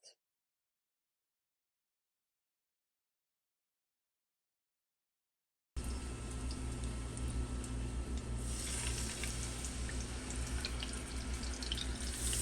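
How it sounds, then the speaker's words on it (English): Pieces of halibut, a thicker one among them, laid into a hot skillet on a stove; after several seconds of silence, a loud, steady, close sizzling hiss begins and continues without break. "So now we're going to add the fish to the skillet."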